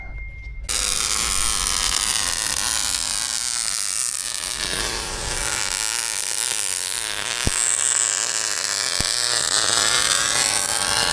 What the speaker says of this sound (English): I'm gonna start cutting out some link brackets for it